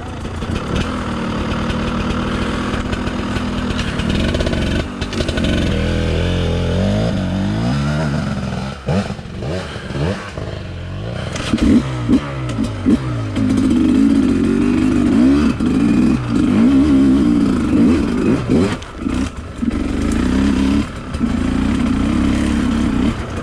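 Sherco 250 two-stroke enduro motorcycle ridden off-road, engine loud and close, revving up and down in bursts with idling dips and clattering knocks, no talk.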